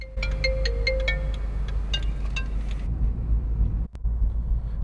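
A phone ringtone chimes in a repeating melodic pattern for a few seconds over the low rumble of a car interior, then cuts off, followed by a brief dropout and the steady engine drone.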